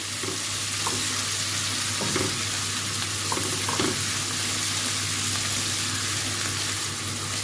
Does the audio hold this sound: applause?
no